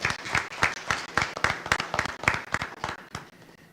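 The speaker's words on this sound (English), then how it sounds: "please give them a round of applause for their courage in running and being with us tonight" An audience at a county Republican primary debate gives the candidates a round of applause, moderately distant clapping with a loose pulsing rhythm that holds steady and thins slightly toward the end, with no voices over it.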